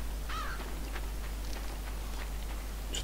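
Crow-like caws from birds in the eerie forest of the video game Limbo, a few short harsh calls scattered over a steady low hum, faint and spaced apart.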